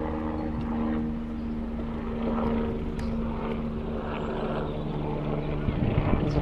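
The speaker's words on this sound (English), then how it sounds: "There's a plane over there, much higher up, obviously." An airplane flying high overhead, a steady, droning engine hum that holds throughout, with a person talking over it.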